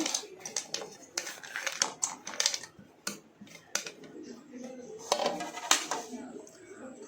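Chopped vegetables for a homemade pizza tipped into a vessel, with a run of light clattering taps and knocks of uneven rhythm, close and fairly quiet, with a voice talking at times.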